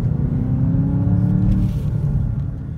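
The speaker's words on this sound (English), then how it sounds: "we're gonna get one more quick acceleration for you" A 2020 VW Jetta GLI 35th Anniversary car accelerating hard, its deep engine note rising steadily as it revs, loud and close, then easing off as the pitch drops near the end.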